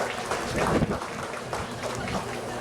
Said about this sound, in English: Let's give the credit union movement a really big round of applause for being here.